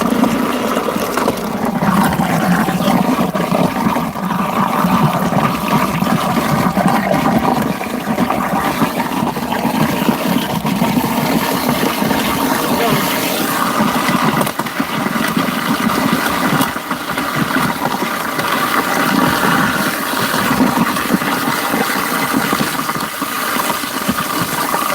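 Water draining through holes in the bottom of a compost bucket, a steady close rush and trickle that continues without a break the whole time, with a low rumbling undertone.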